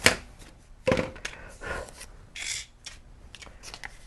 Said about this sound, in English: Get my trusty scissors. Give it a cut.